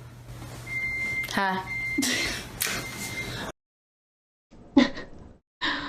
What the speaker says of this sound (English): You can hear the microwave going off.